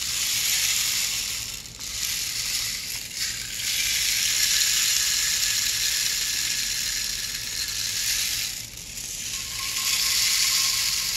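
Rain shaker instrument imitating rain, a close continuous rushing rattle of falling beads that dips and swells several times as it is tilted; no talking.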